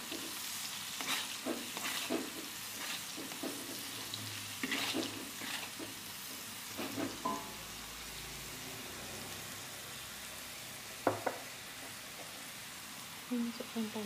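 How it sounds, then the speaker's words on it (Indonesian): Ingredients for chicken nasi kebuli sautéing in a pan: a soft ongoing sizzle with scattered clicks of a spatula stirring and scraping, close but fairly quiet, with occasional murmured talk. "Kita tumis sampai matang ya."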